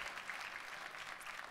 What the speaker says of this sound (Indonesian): boleh kita beri tepuk tangan yang paling meriah buat Yesus Tuhan kita